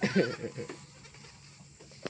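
A goat bleats loudly and close up in one wavering cry at the start, then fades into quiet rustling outdoor background with a faint click near the end.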